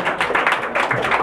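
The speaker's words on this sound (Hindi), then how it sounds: "बहुत जोरदार तालियां" Students clap in a physics class, a brief burst of dense, fairly loud clapping from a group in a classroom lasting about a second, with no one speaking over it.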